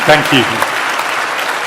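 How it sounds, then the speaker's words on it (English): Lecture audience applause at a talk by a famous scientist, a steady wash of clapping with someone briefly speaking over its start. "I knew you'd get a round of applause."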